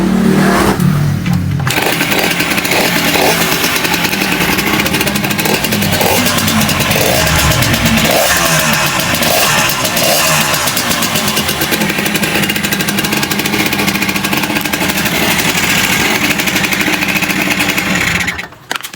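A Yamaha RS 100 motorcycle engine runs loud and close for the whole stretch, holding a steady rough idle with a few rises in revs before it cuts out sharply at the end.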